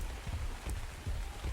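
Steady rain falls in the video game ARK, a soft continuous patter of drops with low rumbling, fairly quiet and with no voices.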